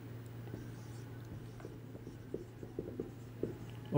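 Pen scratching on paper while writing out an income statement for a manufacturing business, soft intermittent strokes close by over a steady low hum, no talking.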